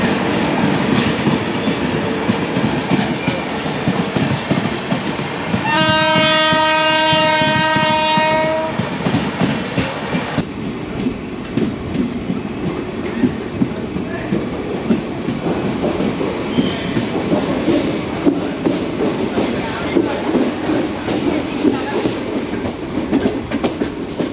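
Ernakulam Duronto Express, train number 12223, rolls past with a steady loud rumble and rattle. A single sustained horn blast sounds near the start, and no one speaks.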